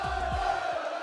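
A large arena crowd at the Fortnite FNCS Global Championship roars and cheers in a sustained, dense wash of voices, with a few deep booming thumps underneath.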